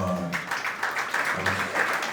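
Applause from a congregation at a memorial tribute gathering, a steady patter of many hands clapping for about two seconds, fairly close, with no voices over it.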